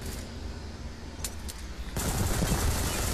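Submachine gun fire in the shooter Ghost Recon Phantoms: a few sharp shots, then a sustained loud automatic burst that fills the second half.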